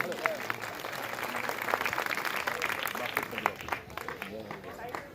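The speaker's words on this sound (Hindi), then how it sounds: "तो जोरदार तालियां बापू के लिए" Applause from a satsang gathering for Bapu, dense broadband clapping sustained through the stretch, with crowd voices and speech mixed underneath.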